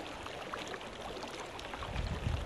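Shallow stream water babbling and trickling steadily nearby, with a fuller rush of flow toward the end and no voices.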